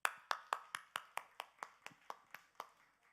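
A church congregation claps in a slow, evenly spaced rhythm, about a dozen crisp claps that fade gradually, heard fairly quietly in a reverberant room.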